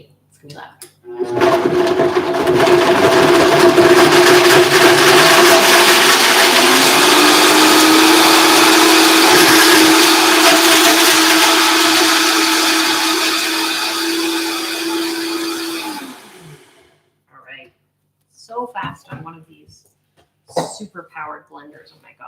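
Blender blitzing breadcrumbs for za'atar breadcrumbs: a loud, close, continuous whirring roar lasting about fifteen seconds, rising slightly in pitch partway through, then cutting off, followed by brief quiet talking.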